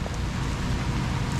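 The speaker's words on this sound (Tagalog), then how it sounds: "medyo lumalakas na naman ang ulan." Heavy rain pours steadily outdoors over a vegetable garden, a dense even hiss with no breaks and no voices.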